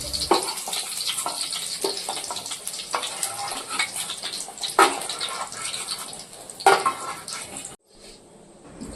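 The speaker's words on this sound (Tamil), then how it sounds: "வெங்காயம் பூண்டு வதக்கணும் பார்த்திங்களா" Onion and garlic sauté in a pan for Kumbakonam-style vathal kuzhambu, giving a steady close sizzle with scattered crackles and a few louder pops before it abruptly drops to a quieter hiss near the end.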